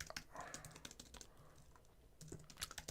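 Quiet, quick keystrokes clatter on a computer keyboard in irregular bursts during a coding session, with a brief pause before the typing resumes.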